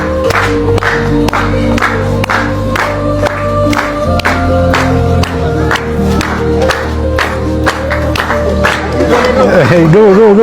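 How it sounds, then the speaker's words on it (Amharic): Audience at a car handover ceremony claps and cheers in a steady, loud burst of applause, with crowd voices and whoops mixed in throughout and music-like tones near the end. "እንግዲህ እስኪ ጭብጨባ አስብላችሁ"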